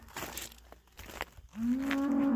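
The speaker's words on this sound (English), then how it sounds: "Cow was looking for his calf, I think." A cow on a farm pasture lets out a long, loud moo in the second half, calling for its calf, after a stretch of quiet rustling and faint background noise.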